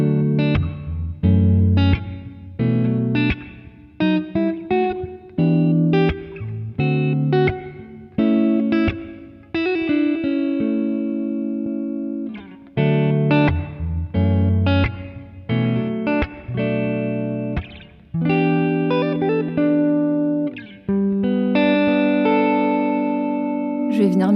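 Clean electric guitar through a Boss Katana Gen 3 amp playing picked notes and chords in phrases with short pauses, bright and close, each note ringing briefly.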